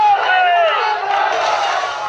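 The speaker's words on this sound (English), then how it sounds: "during a demonstration to show support for residents protesting in southern Chile demanding more social benefits" Crowd of protesters at a street demonstration on a blocked main avenue in Santiago, Chile, a dense roar of many voices with shouts rising above it, loud and continuous throughout.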